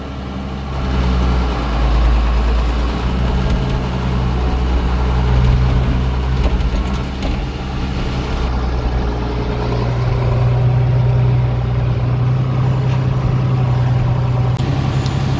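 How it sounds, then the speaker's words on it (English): Diesel engine of a mixer tractor idling steadily on a snowy dairy farm, a loud, continuous low rumble with no talking, holding constant throughout. "So this tractor is nicknamed the Beast via its big frame and the way she handles"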